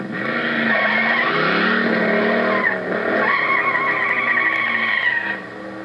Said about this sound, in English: I got in my car for a nice, leisurely drive north on the 395